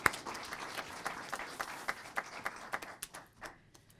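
A city council meeting audience gives a round of applause: a brief burst of crowd clapping that thins into scattered individual claps and dies away.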